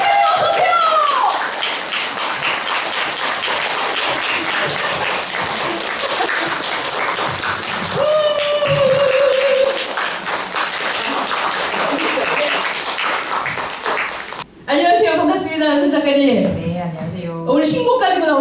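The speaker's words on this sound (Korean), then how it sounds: "여러분 큰 박수로 맞이합니다" Audience applause at a book talk launching a late novelist's posthumous collection, welcoming a fellow author onto the stage; sustained, dense clapping fills the room alongside an announcer's voice, then shifts to music and talk near the end.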